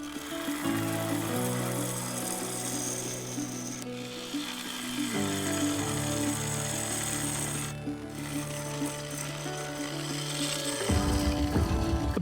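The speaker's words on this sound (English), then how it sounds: "A bit more work from the gouge and it was done." A wooden vase spinning on a woodturning lathe while a gouge cuts it, giving a steady droning motor hum with shifting tonal whine and scraping, continuous and close, briefly changing pitch as the cut varies.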